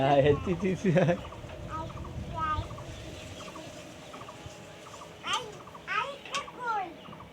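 Chickens cluck and squawk in short bursts near and far, mixed with people talking and children's voices.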